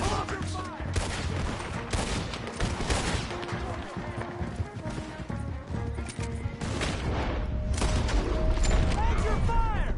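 Dense, loud gunfire from a Red Dead Redemption 2 shootout rattles in overlapping volleys and scattered shots for the whole stretch, with voices shouting beneath the din.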